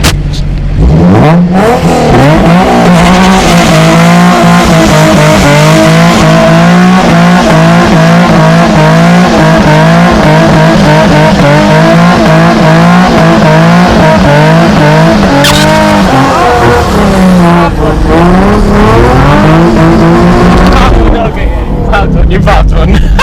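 Supercharged Nissan 350Z with a new engine doing a loud, sustained burnout, engine roaring at high revs with continuous tire squeal until a tire bursts; people shout and cheer around it.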